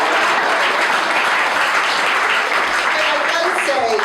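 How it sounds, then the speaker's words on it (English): An audience at a panel on Black feminism applauds steadily and loudly, a dense wash of many hands clapping nearby with a few voices mixed in. "Shelley wants a clap."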